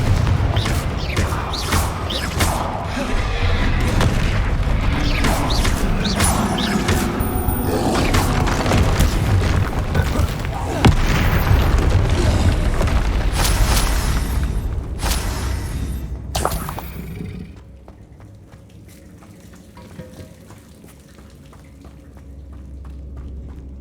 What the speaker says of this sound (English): Confringo. Potato. Confringo.